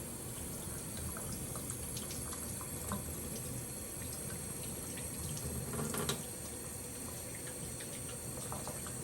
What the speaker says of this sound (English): Helps if you run it under cold water.